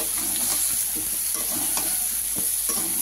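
Bottle gourd sautés in a sweetened ginger spice paste, giving a close, constant sizzle broken by several quick stirring scrapes.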